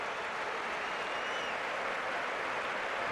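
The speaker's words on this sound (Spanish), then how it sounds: "Aplausos para Ruud van Nistelrooy" The Santiago Bernabéu stadium crowd applauds Ruud van Nistelrooy during Real Madrid versus Málaga in the 2011-12 Copa del Rey, a steady, far-off wash of clapping and roar with no break.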